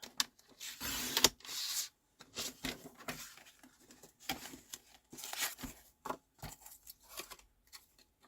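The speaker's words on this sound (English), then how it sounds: "Just going to cut 1/2 inch off here." Paper trimmer slicing half an inch off a piece of card during card making, heard as a few bursts of bright scraping and cutting strokes with clicks and pauses between them, close and fairly quiet.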